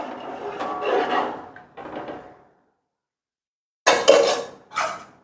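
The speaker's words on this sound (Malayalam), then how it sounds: "നന്നായിട്ടൊന്ന് ഇളക്കി യോജിപ്പിക്കാം." Mutton biryani being stirred with water in a pot, giving a few scraping knocks of a spoon against metal, then a pause before two louder bursts of clatter close by.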